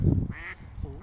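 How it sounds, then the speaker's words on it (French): A duck quacks a few times close by, short nasal calls with brief pauses between them, while a voice is faintly audible under the calls. "Mais si, c'est un canard, regarde."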